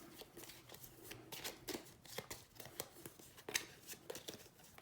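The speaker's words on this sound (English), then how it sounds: "shuffle these up. We'll pick the right one this time." A deck of Yu-Gi-Oh trading cards is shuffled by hand during a game, giving a run of quick, close riffling and rustling bursts of card paper with no voices.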